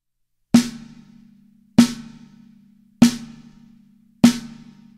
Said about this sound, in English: you might just end up hitting the head only